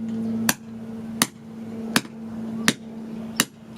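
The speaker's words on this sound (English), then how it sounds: "It's really slow going hitting in this rebar into soil with the standard hammer." A standard hammer driving rebar into gravelly soil, five sharp metallic strikes about every 0.7 seconds, close and distinct, each followed by a brief ringing tone.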